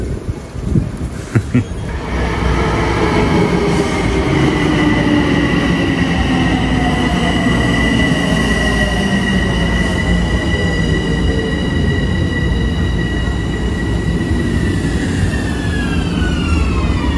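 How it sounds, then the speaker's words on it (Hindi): A Long Island Rail Road train in New York runs with a loud, steady rumble and a drawn-out rising and falling whine from the wheels and motors that carries on without a break. "ये वाली जो ट्रेन है तो काफ़ी साफ़ सुथरी है LIRR।"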